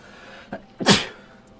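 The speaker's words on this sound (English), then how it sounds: "that was a violent sneeze" A single violent sneeze, close to the microphone: a short sharp intake of breath, then one loud explosive burst that fades quickly into quiet.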